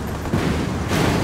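Gunfire in Ghost Recon Wildlands as Bandidos close in, a dense rumble of shots and low booms that swells twice and stays loud throughout, with no talking.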